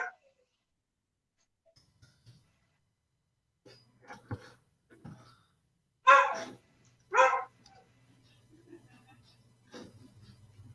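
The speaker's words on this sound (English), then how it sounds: "there goes the dog alarm" A dog barks twice in two short, loud bursts, with a few fainter sounds scattered before and after against an otherwise quiet background.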